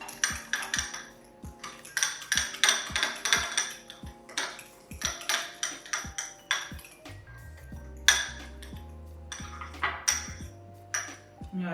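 Roasted cauliflower and mixed vegetables tossed with herbs in a bowl, a steady run of close clinks and scrapes of a utensil against the bowl, rhythmic for several seconds, with a low hum underneath toward the end.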